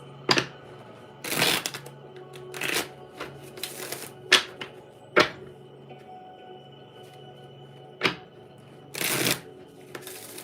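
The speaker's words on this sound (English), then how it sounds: "All right, Lori, I got 2 more shuffles for you. 2 more." Several bursts of tarot cards being shuffled, each a quick riffling flutter, spaced irregularly with short quiet gaps between them, close by.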